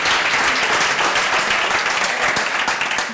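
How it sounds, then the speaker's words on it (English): A conference audience applauds during a closing session, a dense steady wash of many hands clapping that stays loud and even for the whole stretch. "big applause, why not?"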